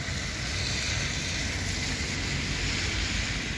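Rain falls outdoors in a steady, dense hiss, loud and continuous with no voices.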